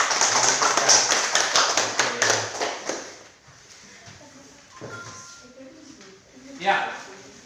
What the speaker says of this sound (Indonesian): Sekali lagi tepuk tangan untuk semuanya.